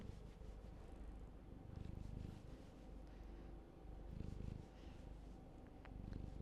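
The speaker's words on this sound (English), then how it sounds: "Came up to me and is purring." A cat purrs softly and close by in a quiet room, a low rumbling rhythm that swells and fades in repeated breaths, with no talking over it.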